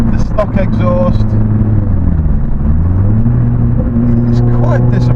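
A Honda Civic Type R FN fitted with a resonated Cobra sports exhaust rumbles at idle with a low, steady drone and a slight rise and fall in pitch, loud and close throughout.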